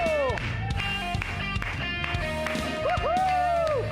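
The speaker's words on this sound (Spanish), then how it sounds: "Esas palmas fuertes, pueblo, vamos." A crowd claps its hands in rhythm at a live worship concert, steady beats under a sung melody and musical instruments.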